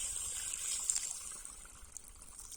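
A weak, thin trickle of water from a borewell pipe on a farm, a faint steady hiss and dribble with small splashy flickers, fairly close and alone.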